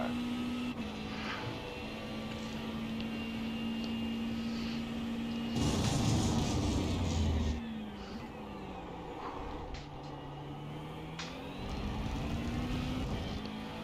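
A Ferrari race car engine in iRacing holds a steady tone, then roars louder for a couple of seconds before dropping and climbing again through shifts, with no talk over it.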